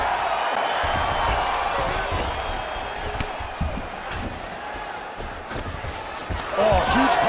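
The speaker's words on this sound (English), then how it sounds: "huge pop from the crowd as the fighters get back up to their feet" Arena crowd at a UFC fight roaring and cheering loudly as the fighters rise from the mat, a dense sustained wall of noise with a louder swell near the end.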